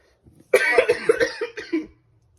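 A burst of several harsh coughs in quick succession, close and loud, with a faint throat noise before and quiet after.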